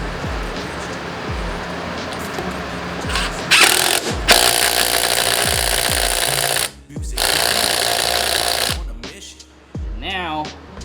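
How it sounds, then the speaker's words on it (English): Power tool whirs in loud bursts while tightening a bolt on a Honda Ruckus scooter's front fork, with sharp ratcheting thuds repeating through the clip. "now let's tighten it back up"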